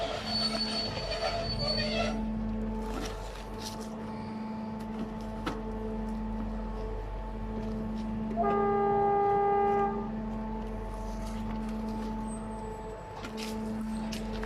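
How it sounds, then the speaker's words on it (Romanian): A train passes through a railway station with its wheels squealing on the rails, giving long, shrill, tonal screeches over a low rolling rumble, loudest near the middle and then fading. "Ăsta este minusul de la noi, de aici, trenul."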